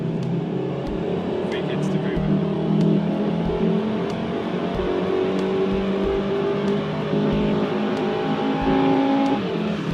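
Stock Golf R or BMW M2 with about 303 horsepower accelerating hard during a performance run, heard from inside as a loud, steady engine drone with rising tonal whine and periodic low thumps, continuous throughout.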